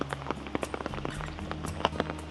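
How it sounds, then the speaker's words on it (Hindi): Heavy monsoon rain falls steadily in Mahabaleshwar, a dense patter with scattered louder drop impacts close by, with no voices. "और सुबह से जो बारिश हो रही है, इतनी सिवियर बारिश हो रही है, स्लो भी नहीं हो रही।"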